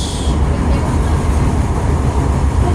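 An LRT light rail train rumbles loudly and steadily from inside a carriage, a dense continuous roar over the short span.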